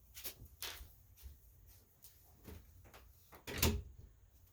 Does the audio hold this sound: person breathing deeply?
no